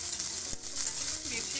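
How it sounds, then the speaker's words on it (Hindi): Two large, coarsely chopped onions tumble into a hot frying pan for homemade veg Manchurian, giving a loud, steady, close sizzle with a brief stirring clatter partway through. "अब मैं इसमें डाल रही हूँ 2 बड़े अनियन जो मैंने मोटा मोटा काटा था"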